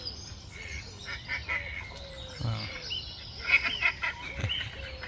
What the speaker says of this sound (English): Two males in pursuit of a female duck here